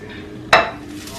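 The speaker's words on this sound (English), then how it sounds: "I'm using this kind of flat frying pan" A flat frying pan is set down or handled before cooking shrimp in butter, giving a single sharp metallic clank close by that rings briefly and fades over a faint background hiss.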